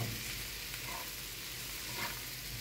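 Shrimp sautéing in a pan with garlic and onion, a steady even sizzle with faint stirring, heard alone and fairly quiet throughout.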